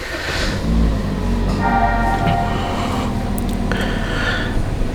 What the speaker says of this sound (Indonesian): lu matiin mesin, nyalain lagi